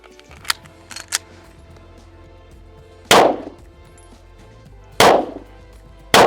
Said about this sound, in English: You gotta shoot a target twice and then reload